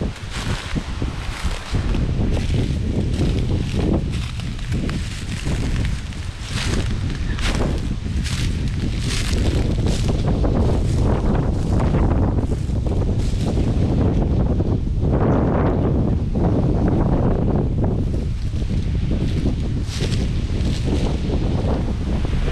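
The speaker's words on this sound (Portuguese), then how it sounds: "Acredito que a câmera também deve estar pegando um vento forte aí." Strong wind buffets a camera microphone outdoors near a town, a loud continuous roar with gusty surges across the whole span and no other clear sounds.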